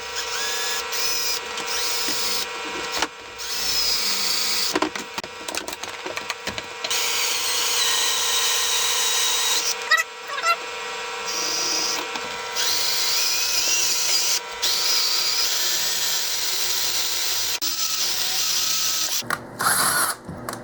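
A power drill grinds steadily through a broken stainless steel bolt on a Honda TRX70 quad. The whine is continuous and mid-pitched, with a few brief pauses and bites, close up and without talk.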